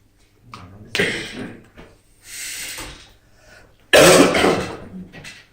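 Someone speaking at a conference gives several rough coughs and throat-clearing bursts, close and loud, with the sharpest hacking spasm near the end.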